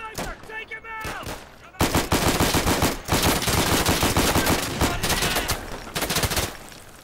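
Rapid machine-gun bursts and overlapping gunshots from the Day of Infamy shooter game during a holiday event. A quieter opening gives way to loud, near, almost continuous automatic fire that rattles on for several seconds.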